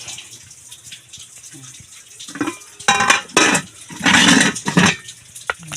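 Dishes and plates being washed under running water at a sink, with clinks and splashes growing louder in bursts toward the middle and a quieter water background.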